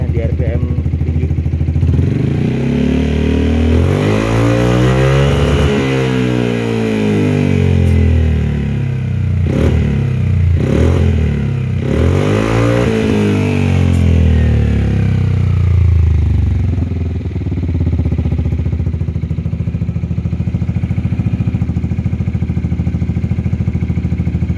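Yamaha XMAX 250 scooter with a smoke muffler full-system exhaust and the dB killer removed, revved repeatedly to high RPM, loud and close, the engine note rising and falling in sweeping surges.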